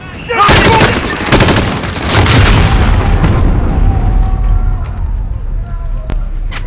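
Explosions from bombing in the game Call of Duty Modern Warfare boom loudly and close, mixed with bursts of gunfire, then fade into a lingering rumble with faint voices underneath.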